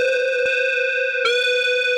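Synth tone run through the tube distortion mode of a Meris Enzo X pedal: a steady, buzzy sustained note rich in harmonics, with a brief pitch glitch partway through, loud and alone.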